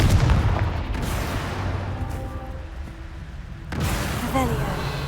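A Confringo fire spell blast in Hogwarts Legacy, a loud booming burst at the start that fades into rumbling, with a second impact near the end while a voice speaks.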